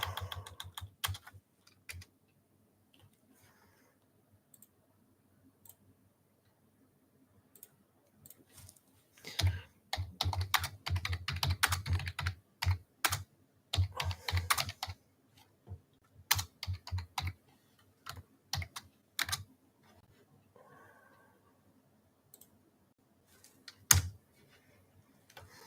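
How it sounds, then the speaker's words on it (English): Someone types on a computer keyboard in quiet, irregular bursts of rapid key clicks, with long pauses between flurries and no talking. "I'll just type it."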